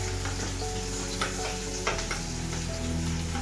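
Spice tempering (oggarane) crackling and sizzling steadily in oil over a low flame, close and continuous with small pops, under a constant low hum.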